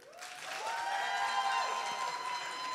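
Crowd clapping and cheering on a comedy game show stage, moderately loud and continuous, with a high tonal whistle-like sound sliding upward and holding over the applause.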